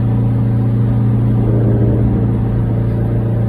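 Car engine drones steadily from inside a car under build as it drives at speed, a constant low hum with a mild rise in revs midway, no voices.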